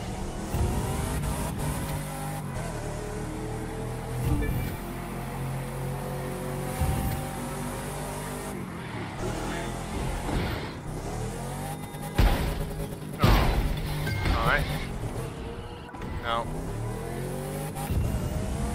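A weird, wrecking car in a racing video game driven hard, engine revving and rising and falling while tires squeal and skid repeatedly, loud and close, with a person talking over it.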